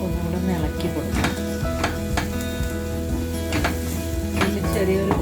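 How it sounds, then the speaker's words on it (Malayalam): Potatoes are stirred with turmeric powder in oil in a frying pan, bringing soft sizzling and intermittent clinks and scrapes of a utensil against the pan over a steady, tonal background hum. "മഞ്ഞൾപ്പൊടി ആഡ് ചെയ്തിട്ട് ഒന്നുകൂടെ ഇളക്കി കൊടുക്കാം"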